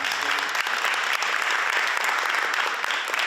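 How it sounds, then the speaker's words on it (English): A crowd claps steadily and densely for several seconds for a junior ROTC unit at a candidates' forum, a continuous wash of applause filling the room. "Can we have a round of applause for the Lynn English Junior ROTC?"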